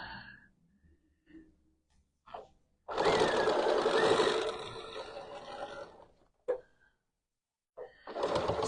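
A Bernina sewing machine stitching quilt pieces, a fast steady whirring run of about three seconds between quieter handling noises, with another short burst starting at the end.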